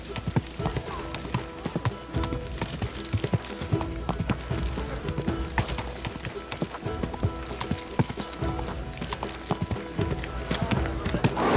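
Steady clip-clop of horse hooves in Kingdom Come: Deliverance II, a continuous walking rhythm, close and clear, with faint background ambience throughout.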